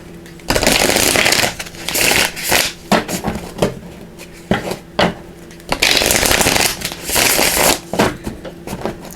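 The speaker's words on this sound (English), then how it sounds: "So let's give these a shuffle." Tarot cards shuffled by hand in bursts of riffling and slapping, with short pauses between rounds, close and fairly loud and heard alone.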